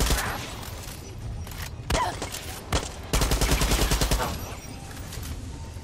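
Gunfire in the video game Far Cry 6: a few single shots, then a rapid automatic burst of evenly spaced loud cracks, close and dominant.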